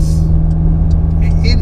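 A Porsche 992 911 Carrera 4S twin-turbo engine runs with a steady low droning hum, with faint high turbo whistles and chirps appearing over it.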